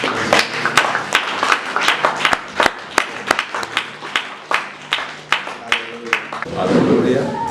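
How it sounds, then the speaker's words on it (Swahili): A church congregation claps for the Lord, with rhythmic, fairly loud hand claps at a steady beat, ending in a swell of crowd noise and voices. "Tumpigie Bwana makofi"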